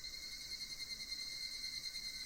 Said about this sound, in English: I heard the second set of cicadas